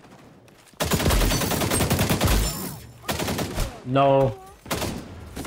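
Shotgun blasts from the video game XDefiant boom in short bursts amid excited, rapid player talk, the shots partly buried under the voices.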